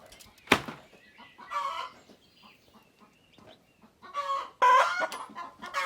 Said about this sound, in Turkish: Niye bağırdın horoz?